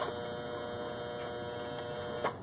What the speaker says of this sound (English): That's my dryer.